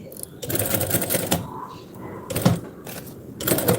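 Sewing machine sewing a buttonhole, its stitching running in uneven bursts close by, with someone talking over it.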